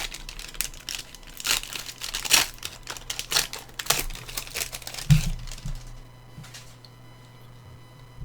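Wrappers from 1991 Upper Deck NFL Football card packs crinkle and tear in a close series of sharp rustling bursts, busy at first and then thinning out to a few quieter crackles.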